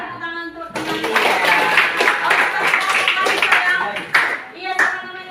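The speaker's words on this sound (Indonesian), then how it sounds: "tepuk tangan untuk teman-teman" A classroom of students claps for their classmates, a dense burst of close applause lasting several seconds with a few voices mixed in.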